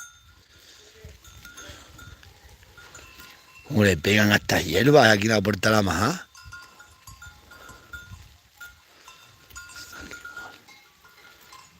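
Goats at the door of a farm pen let out a loud, wavering bleat lasting a couple of seconds close by, while someone speaks in the quieter stretches around it and faint farm sounds linger.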